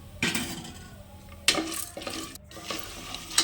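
Peanuts and chickpeas fry in about four spoons of oil in a pan for a puffed-rice mandakki snack, a steady close sizzle broken by several sharp scraping stirs and clinks of a spoon against the metal.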